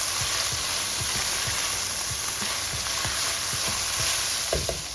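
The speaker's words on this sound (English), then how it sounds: "So the first batch is almost done. Almost seared on all sides." Beef pieces for stroganoff searing in a pan, a loud continuous close sizzle with soft irregular bumps and scrapes from moving the meat.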